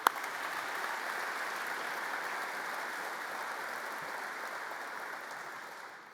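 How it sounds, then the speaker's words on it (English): A room full of attendees at a national defense forum luncheon gives a sustained round of applause, an even, moderately distant wash of clapping that holds steady and fades out near the end. "So let's give the Joint Chiefs and the combatant commanders a round of applause."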